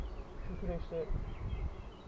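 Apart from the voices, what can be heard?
bees flying back to the hive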